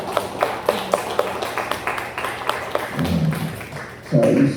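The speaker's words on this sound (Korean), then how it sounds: "다시 한번 축하하고 축복하는 박수를 하겠습니다." A church congregation at a Sunday afternoon praise service claps in a steady rhythm, with sharp hand strikes over a low hum and a few brighter tones near the end.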